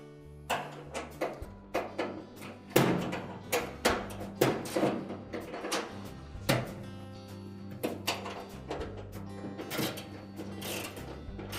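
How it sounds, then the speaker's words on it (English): A socket and ratchet tightens a bolt on the rear shock damper of a Whirlpool washer, giving a series of close, sharp metallic clicks and knocks in an uneven rhythm over a low hum, with no speech. "we can use our socket and ratchet to tighten it up"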